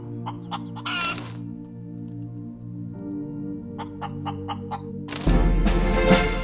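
Chickens cluck in the space survival video game Breathedge, a run of short, close clucks repeated over a steady synthetic hum. Louder squawking bursts break in near the start and the end.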